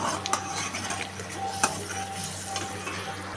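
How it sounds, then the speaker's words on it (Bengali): A ground spice paste is stirred and fried in a pan for a dalia khichuri, with a soft continuous sizzle under repeated scraping and clinks of a metal spoon against the pan. "এখন আমি এগুলোকে ভালো করে কষিয়ে নেব মশলাটাকে"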